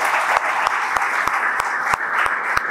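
Audience applause for Muay Thai students at a Fight Cup event in Ecuador, a steady dense clapping throughout with a few sharper claps standing out.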